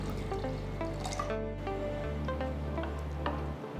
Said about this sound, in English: Pour enough water so the dal is completely immersed.